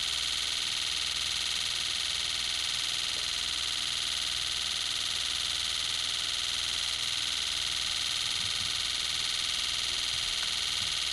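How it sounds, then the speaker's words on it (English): A rapid electronic pulse train of simulated fuel injector pulses at about 60 mph forms a steady, continuous buzz that holds an even tone throughout, with no voices. "This is what it would sound like if we were running"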